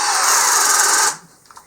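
A brushed Hart cordless drill in speed 2 boring with a 1 1/8 inch spade bit gives a loud, strained whine that runs steadily for about a second, then cuts off abruptly, leaving a few faint clicks.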